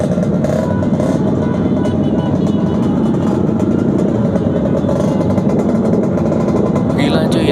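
Two-stroke motorcycle engines at a crowded Sunday-morning ride meetup in Palembang, a loud continuous crackling drone of several bikes idling and revving close by without pause.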